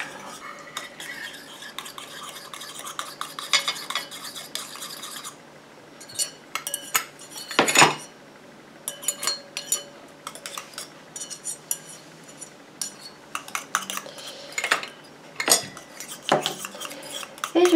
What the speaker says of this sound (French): j'incorpore ma phase aqueuse à ma phase huileuse tout en mélangeant